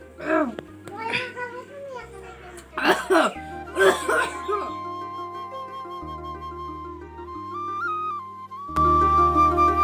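Several harsh coughs in quick succession, fairly close, followed by a sustained tonal background sound with a steady low hum.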